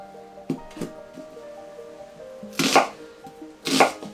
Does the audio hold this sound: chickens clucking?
no